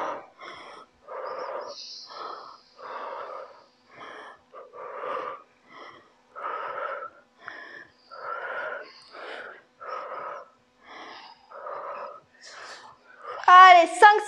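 Rhythmic, forceful breaths pushed out during a home HIIT workout for beginners, about a dozen sharp exhales spaced roughly a second apart, close to the microphone, with a brief voice at the end.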